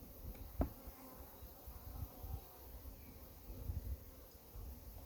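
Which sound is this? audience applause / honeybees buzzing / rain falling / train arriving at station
honeybees buzzing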